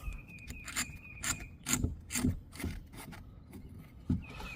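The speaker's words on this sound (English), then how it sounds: "You just keep on screwing it, and it screws all the way through." A screw twisted by hand through wood, boring a quarter-inch hole for a homemade yard pull sled, with repeated close rasping, rubbing strokes and a few sharper creaks.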